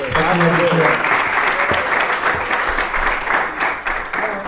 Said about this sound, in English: So give them a round of applause real quick.